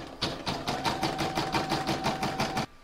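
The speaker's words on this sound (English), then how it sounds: "I'm going to pop that back in my machine, and I'm going to stitch round number one" Computerised embroidery machine stitching the first outline round of a heart-pattern placemat design, a fast steady run of needle strikes with a whirring motor, close and continuous for under three seconds before stopping abruptly.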